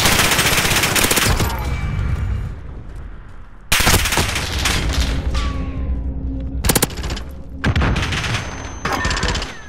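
Gunfire in a multiplayer shooter video game round, with repeated bursts of automatic fire and single loud shots, close and harsh, separated by short pauses and fading echoes.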